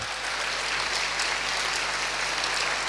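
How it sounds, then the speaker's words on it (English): Sustained, dense applause from a large audience fills a sports awards ceremony hall, steady and continuous throughout with no voices standing out. "Keep the applause going, ladies and gentlemen."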